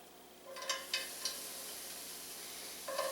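Onions hiss quietly in a hot pan with about a teaspoon of canola oil, a soft steady sizzle broken by a few sharp scrapes as they are pushed around, close but faint.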